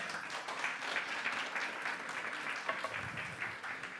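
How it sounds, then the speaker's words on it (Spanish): A church congregation applauds during a worship service, a dense, steady wash of clapping filling the room at moderate loudness for the whole stretch, with no clear voices on top. "Puedes darle un aplauso al Señor si deseas."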